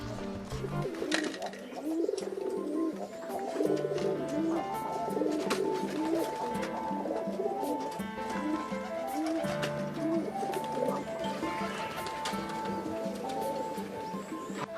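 Pigeons coo repeatedly in low, rounded calls, several birds overlapping close by, with other faint bird chirps and background activity mixed in across the whole stretch.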